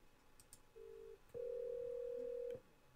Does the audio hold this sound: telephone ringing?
yes